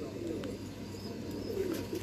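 A red-eyed pigeon coos softly and steadily in the background of a pigeon loft, with faint ambient noise throughout.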